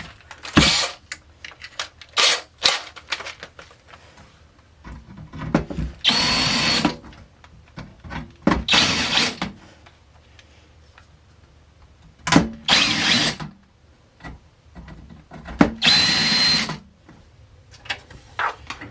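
A handheld power drill cleaning up rough drilled-out holes in a steel amplifier chassis, running in repeated short bursts of whining grind separated by pauses, loud and close with no talk.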